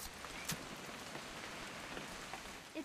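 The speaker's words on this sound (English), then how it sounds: "It's gonna rain the whole weekend, isn't it?" Steady rain pours down in What Remains of Edith Finch, a constant hiss of drops pattering on surfaces with a few brief louder spatters, heard alone without talk.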